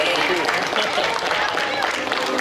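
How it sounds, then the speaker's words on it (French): An outdoor crowd at a town-square fashion show in Wissembourg applauds steadily as boutique models are welcomed, a dense, even wash of clapping that lasts the whole moment. "On va commencer par la boutique Fripouy, les petits, que l'on accueille sous vos applaudissements."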